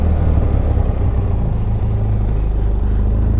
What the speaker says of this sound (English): Such a smooth sounding motor.